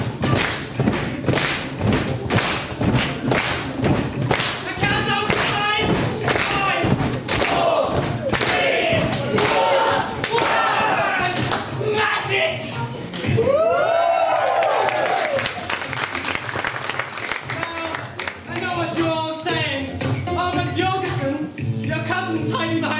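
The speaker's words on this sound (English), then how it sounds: "When your heart starts with the stomping of your feet. This time, move your hands down and clap." An audience at a variety show stomps its feet and claps in loud, rhythmic unison, the beats building to dense repeated thuds, while a voice speaks over the top.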